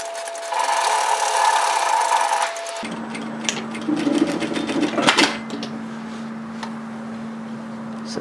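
A sewing machine runs a 1 cm (3/8 inch) securing seam on a Carter Shacket, a steady close mechanical whir that starts loud, then continues at a lower, even hum with a few clicks.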